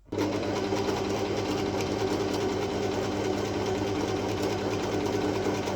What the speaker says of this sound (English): I got really into sewing the skirt, and I was doing that for the entire afternoon